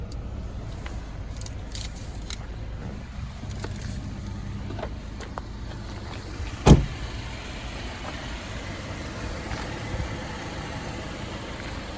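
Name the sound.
2018 Jeep Wrangler Unlimited Sahara engine running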